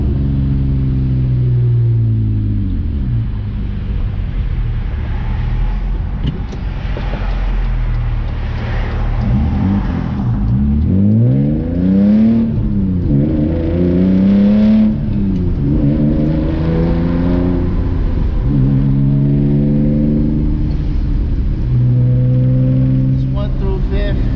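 A BMW E30 with a swapped S50 inline-six idles and revs loudly close by, its engine note rising and falling in drony sweeps, while a person talks over it throughout.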